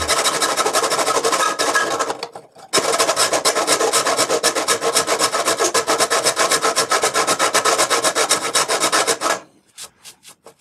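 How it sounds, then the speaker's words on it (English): A 12-inch triangular hand file rasps against metal in fast, loud, rhythmic strokes up close, pausing briefly once before resuming and ending with a few slower final strokes. "Now I'm using a 12 inch triangular file"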